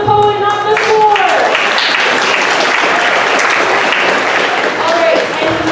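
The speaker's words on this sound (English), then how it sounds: "Applause the poet, not the score" An audience applauds a spoken word poet at a high school poetry event, a loud burst of dense clapping close by that follows the end of a spoken sentence and fades slightly toward the end.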